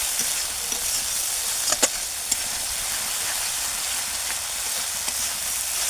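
Spice masala with tomato being sautéed in oil, a continuous close hiss and sizzle with a few sharp clicks of a spatula, no voices.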